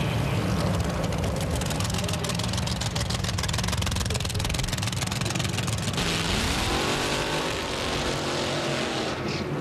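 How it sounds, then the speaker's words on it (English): Drag racing cars at the TAD World Finals in Pomona, California, roar through burnouts with loud, dense engine noise, then the pitch shifts as revs change and settle. "And now with the burnouts complete,"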